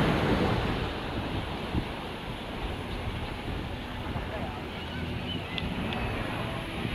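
Steady surf and gusting wind at a seaside viewing platform, with broad continuous wave wash and microphone buffeting and a voice speaking over it.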